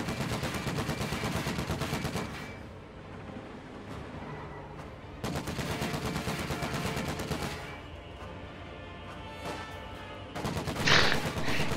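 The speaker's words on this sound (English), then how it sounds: "The M3 does expose itself to flak gun fire right there." Flak gun fire at an M3 half-track in a Company of Heroes-style strategy game, sustained rapid bursts of automatic cannon fire in long stretches with brief pauses, a loud close volley near the end.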